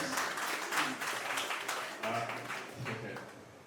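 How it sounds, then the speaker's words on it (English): An audience at a mentoring lunch talk applauds with dense, continuous clapping, moderately faint and fading toward the end. "Let's give a very round applause."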